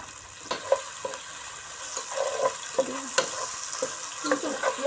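Spiced khichuri being sautéed and stirred in a pan, continuous close frying sizzle with repeated scraping spoon strokes in an uneven rhythm, no talk.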